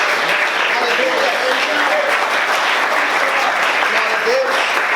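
A church congregation applauds the Lord during an evening sermon, a dense, continuous roar of many hands clapping at once, loud and even for the whole five seconds, with some voices mixed in under the clapping.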